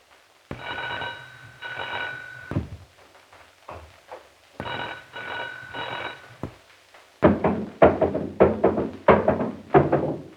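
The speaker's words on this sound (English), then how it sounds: "Kate will ring the front doorbell." A front doorbell rings in an old radio drama: two long electric bell rings separated by a pause, fairly loud and alone, followed by a burst of clattering knocks.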